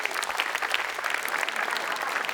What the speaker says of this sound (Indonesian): Wes, tepuk tangan dulu dong